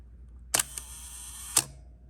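An Olympus OM-1n film camera shutter fires at a one-second exposure: a crisp mechanical click opens it, a faint tick follows, and a second click closes it about a second later, quiet and close in a still room.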